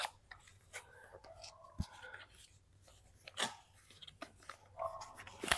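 A DJI Mic Mini is unboxed, with close, quiet crinkles, scrapes and small taps of packaging being handled in irregular bursts; no talking.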